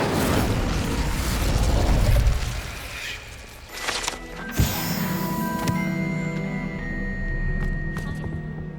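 In Hogwarts Legacy, an Incendio fire spell is cast with a loud whooshing burst and a deep boom. Crackling and mechanical rattles follow and then fade into a ringing, tonal game ambience.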